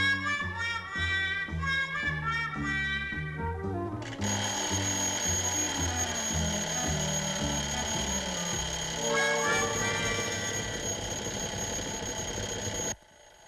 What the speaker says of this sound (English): the professor set that old alarm of his for 9:30. And there it goes now.